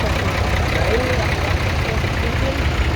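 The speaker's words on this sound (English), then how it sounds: "so you've got a 6-cylinder tractor" A six-cylinder vintage tractor engine runs at a tractor show in Christow, a steady mid-to-low rumble heard continuously under nearby talk and outdoor background noise.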